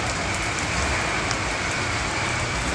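Steady rain pouring down on a beach camp on an island, a dense continuous hiss of drops hitting surfaces, fairly loud and unbroken with no voices.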